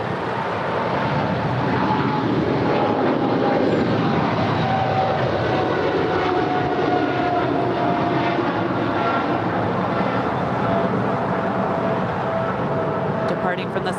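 An American Airlines jet landing on runway 25 left at LAX gives a sustained, moderately loud roar with faint whining tones, heard against steady airport background noise.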